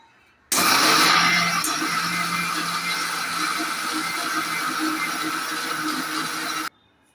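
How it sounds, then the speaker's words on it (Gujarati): Electric mixer grinder jar whirring steadily as it grinds a yogurt mixture, starting abruptly, running loud and even for about six seconds, then cutting off. "તેની અંદર દહીંને એડ કરીશું અને મિક્સર જારની અંદર પીસી લઈશું"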